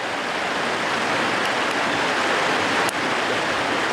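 Mountain stream rushing through Andeok Valley on Jeju, a loud, steady broadband water roar, close and unbroken, with no voices.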